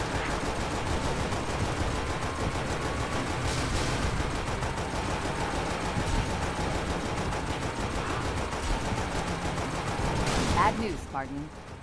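Sustained rapid gunfire and crackling bursts in Halo: Spartan Strike, a dense barrage running continuously for seconds before cutting off abruptly, with talk over the shooting.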